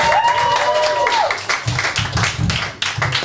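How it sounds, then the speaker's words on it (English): Audience applause for a poet at a spoken-word event, a burst of clapping with a brief voice tone at the start, thinning into scattered, uneven claps toward the end. "More applause, please, for Tanya!"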